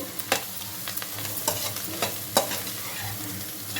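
Egg fry with chopped coriander stirred in a pan over a medium flame: steady oil sizzle with repeated sharp spatula scrapes and clacks against the pan, close and fairly loud, with no talking.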